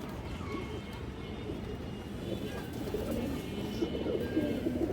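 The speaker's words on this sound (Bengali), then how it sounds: "খুবই চঞ্চল একটা কবুতর এক হাত সাইজের কবুতর" High flyer pigeons at a pigeon seller's coop coo in soft, low, repeated burbles close by, over a steady murmur of background noise.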